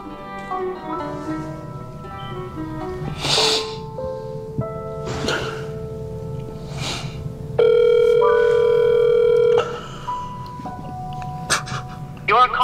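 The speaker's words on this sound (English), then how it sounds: "he reaches for the phone and dials his mom's number" A telephone is dialed, giving a series of short tonal beeps, followed by a long steady ringing tone that is heard over voices talking.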